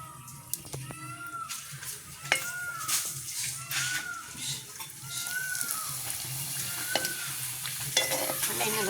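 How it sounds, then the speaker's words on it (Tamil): Papadums and chillies fry in hot oil, a crackling sizzle with stirring and scraping close by, while birds chirp in the background outdoors. "இப்படி அப்படம் மிளகாலாம் பொறிச்சு எடுப்போம்"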